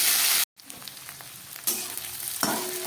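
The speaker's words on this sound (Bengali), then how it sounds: "কয়েক টুকরো বেগুন কেটে নিয়েছি, সেই বেগুনগুলোও দিয়ে দিলাম। আবার একটু ভেজে নিচ্ছি।" Potatoes and eggplant pieces fry in a pan of hot oil, giving a steady close sizzle that briefly cuts out and then swells louder as the food is stirred.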